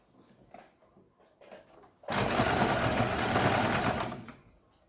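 A sewing machine stitches a katori blouse in one steady, loud whirring run of about two seconds, preceded by faint handling of the cloth and no talk.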